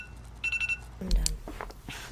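A ten-minute timer alarm goes off with a short burst of steady repeated electronic tones, followed by brief clattering and rustling as it is silenced.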